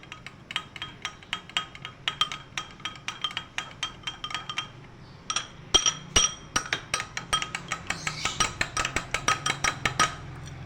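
A spoon clinks steadily against a pot while food colour is stirred into prawn pulao, a rhythmic series of sharp metallic taps, close and fairly quiet, with a short pause midway.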